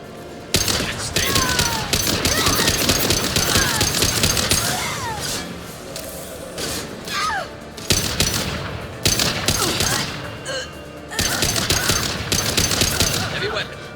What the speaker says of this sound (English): Heavy weapon.